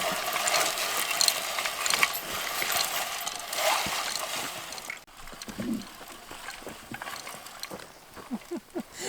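Garden seed planter being pushed over dirt, its chain dragging soil over the seeds while the back wheel rolls and packs it down; a steady scraping, rattling clatter close by, with soft ticking as the wheel turns.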